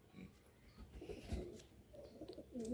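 A Chennai-bred male and female pigeon in a home loft give soft, throaty coos in short bursts close by, with quiet rustling in between.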